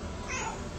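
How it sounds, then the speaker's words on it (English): A house cat gives one brief meow, a thin wavering cry set against a noisy, dense background. "You're a sweet kitty."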